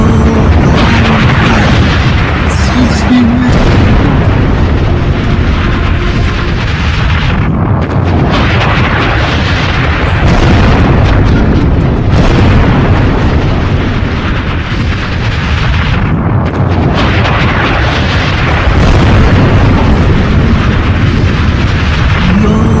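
Missile strike explosions at Isfahan, Iran, make a loud, dense barrage of booms and rumbling blasts that continues almost without pause for over twenty seconds.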